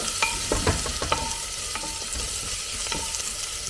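Spices sizzling in hot oil for a tempering with turmeric for a masala chilli dish, a steady close hiss and crackle with occasional clinks and spoon scrapes, with no talking.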